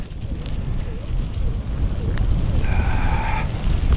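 Steady blustery wind of a winter snowstorm on the ice, roaring and buffeting close to the microphone, with a few faint squeaks and a brief tonal sound.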